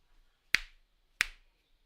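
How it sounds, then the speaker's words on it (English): Two crisp, close finger snaps ring out about two-thirds of a second apart, each a sharp click with a short decay, in an otherwise quiet room. "like if I snap my fingers"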